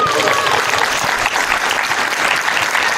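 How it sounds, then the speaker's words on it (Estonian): Dense, sustained applause from an audience at a women's day football festival event in Paide, loud and even throughout, with faint voices mixed into the clapping. "teeme suure aplausi"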